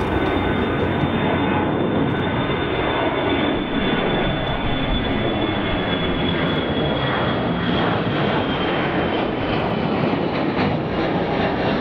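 A Lufthansa Airbus A340 jet airliner gives a loud, sustained engine roar that holds steady throughout, heard up close with no voices.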